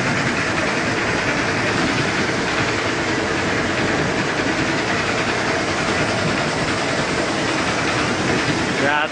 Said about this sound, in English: particles are gone out by the blower